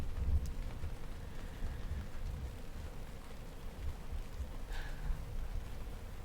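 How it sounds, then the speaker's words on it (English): Steady rain falls during a thunderstorm, a constant soft hiss and patter of drops on surfaces with a low rumble underneath, fairly faint and unbroken, with no one speaking. "I guess half an inch of rain is a lot when it comes down all at once"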